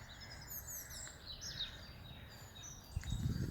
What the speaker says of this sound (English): look at this area and listen to the birds